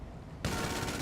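Ruiner 2000 machine gun in a video game opens up abruptly after a near-silent moment, a dense, rapid burst of loud fire that continues to the end.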